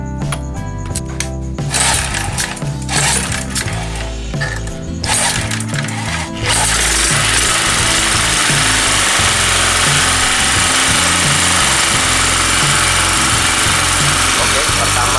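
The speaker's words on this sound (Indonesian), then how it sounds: "Nanti akan kita coba buktikan pada mesin bor ini." An electric drill runs with a harsh mechanical whine, starting and stopping in short bursts, then running continuously and loudly close by.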